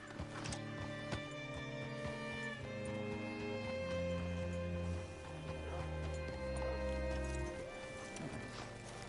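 A horse in Red Dead Redemption 2 clops its hooves and gives a whinny, heard over a bed of game music with steady tones.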